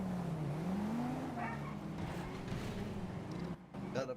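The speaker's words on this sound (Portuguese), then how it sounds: "O cara pega a moto e já sai pra dar grau já." A motorcycle in GTA V pulls away and pops a wheelie, its engine note climbing steadily and revving under continuous game noise, with brief voices at the end.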